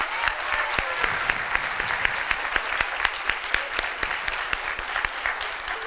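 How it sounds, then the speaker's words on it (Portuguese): An audience claps for teacher Ellen Batista da Silva at a cross-party rally in defence of public education, with steady, dense applause continuing at an even level for about six seconds and no talk over it. "eu queria pedir uma salva de palmas para a professora Ellen"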